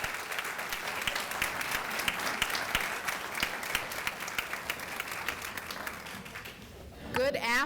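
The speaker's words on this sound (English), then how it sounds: "Let's give this amazing group of students a round of applause" A crowd at a leadership conference closing ceremony applauds students with a steady, full round of clapping that runs on and fades slightly near the end.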